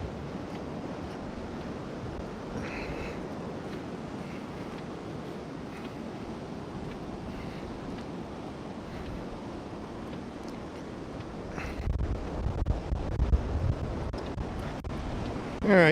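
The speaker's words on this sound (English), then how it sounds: "Look at these waves." Ocean surf rolls in steadily along the coast at Newport, Rhode Island, a broad continuous wash with wind noise buffeting the microphone, swelling louder toward the end.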